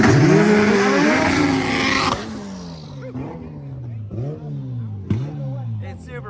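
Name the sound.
small race car accelerating at a drag race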